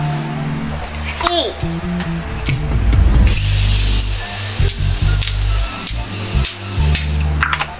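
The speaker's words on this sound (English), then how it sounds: "I'm going to set my face with the Continuous Setting Mist by Morphe" Morphe Continuous Setting Mist sprays in a soft burst onto a face, a close airy hiss that starts partway through, and someone talks before and around it.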